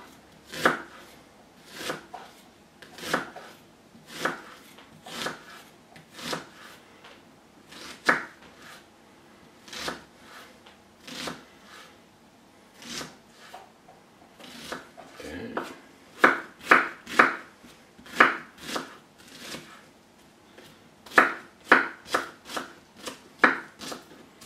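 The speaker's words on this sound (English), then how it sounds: "Then I'm gonna chop up some red onion." A knife chops red onion on a board in steady, close, crisp strikes, slowing at times and then speeding into quicker bursts of cuts, with no talk.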